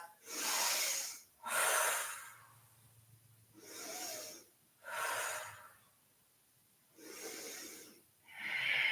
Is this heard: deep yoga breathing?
yes